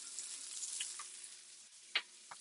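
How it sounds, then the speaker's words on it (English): Polenta stirred in a pot over a faint steady sizzling hiss, with a few soft utensil scrapes and one brief louder clink near the end, quiet and close, no voices. "And stir the polenta."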